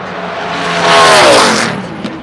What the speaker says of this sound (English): The 38 car is on the track.